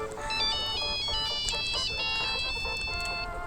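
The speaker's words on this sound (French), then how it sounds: "Téléphone il sonne, mon téléphone il sonne" A mobile phone ringtone plays a bright repeating electronic melody of high tones, steady and fairly loud for a few seconds over faint background noise, with no one speaking.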